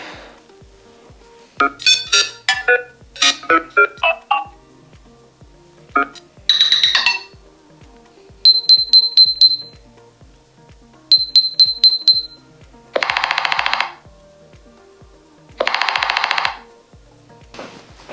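Default ringtone of a Nothing Phone (1) smartphone, a crisp glassy electronic melody of chiming, clinking tones in repeated bursts and phrases, playing close and loud with no talk over it.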